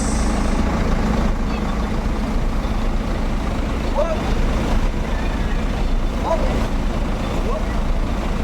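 Jetbus 5 intercity bus parked at a terminal, a continuous low engine idle rumbling steadily throughout while someone talks over it.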